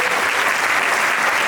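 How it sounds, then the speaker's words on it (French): Dense, loud applause from a theatre audience at a live show, a steady wash of clapping with no talk over it. "J'aimerais également que l'on applaudisse Valentin pour toute cette coordination lumière."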